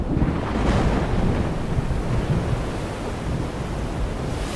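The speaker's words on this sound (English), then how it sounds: "And then the downpour falls." Heavy rain pours down in the Amazon jungle as a steady, dense roar with low rumbling underneath, loud and unbroken throughout, with no voices.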